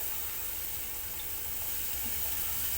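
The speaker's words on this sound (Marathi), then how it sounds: "तर आता मसाला शिजायसाठी आता हे थोडंसं पाणी आहे" Water is poured into a masala base for chicken curry cooked in a clay pot, a faint, steady splashing hiss with no talk.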